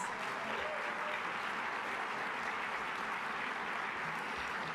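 Steady applause from a conference audience at a university data and analytics session, a continuous broadband patter of many hands clapping at constant loudness with no voices over it.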